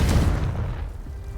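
A Confringo fire spell explodes in Hogwarts Legacy with a single loud, deep boom that decays over about a second, with no other sound over it.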